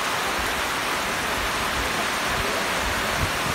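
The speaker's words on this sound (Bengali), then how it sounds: "এ হচ্ছে প্রচন্ড বৃষ্টি।" Heavy rain pours steadily at Sajek Valley in the hill country, a dense, even wash of falling water with no voices.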